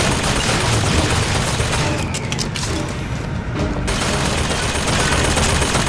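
Heavy machine-gun fire from a video game forms a dense, continuous rattling roar. It barely lets up for the whole stretch and thins briefly only once midway.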